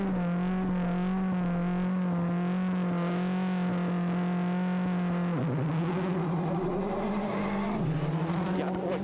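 Marcus Grönholm's Ford Focus rally car runs a gravel stage at Rally Portugal 2007, its engine a steady, buzzing drone whose pitch dips and climbs again twice in the later seconds with no voices.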